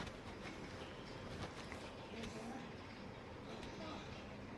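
A train arriving in the video game GTA 5, a steady rumbling rail-car roll heard throughout beneath a dense game soundscape, with voices talking over it.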